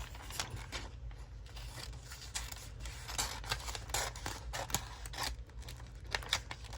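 Scissors snip steadily through a magazine page at close range, quiet, irregular cuts and soft paper rustles repeating throughout.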